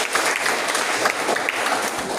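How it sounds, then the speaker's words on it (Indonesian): A classroom of students clapping together for their classmates during a lesson, a continuous mid-loud burst of hand claps throughout. "tepuk tangan untuk mereka dulu"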